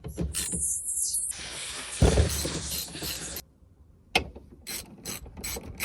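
A ratchet wrench with a T50 Torx bit undoes the seat belt bolts inside a Vauxhall Zafira B, giving loud close clicking pawl bursts and grinding turns, a brief pause, then more quick clicks.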